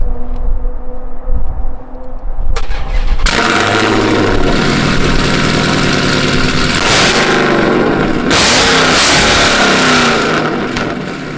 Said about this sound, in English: Let's give a cold start on this car.